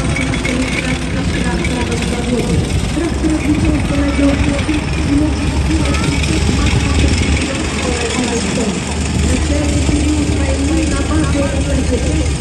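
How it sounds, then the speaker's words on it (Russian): STT-5 artillery tractor towing a 122 mm M-30 howitzer in a Victory Day parade, a steady low engine rumble with clattering running gear, continuous and fairly loud throughout. "Праздничный колонный артиллерийский тягач СТТ-5 со 122-миллиметровой гаубицей М-30"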